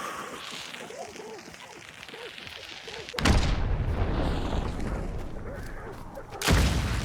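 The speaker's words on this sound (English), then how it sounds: "Now that I had taken a couple of shots and thrown a giant bomb from that same location" Gunfire and a large bomb going off in the video game Hunt: Showdown 1896, a low rumble with faint voices, then two sharp, loud booming blasts a few seconds apart, each followed by a rolling decay.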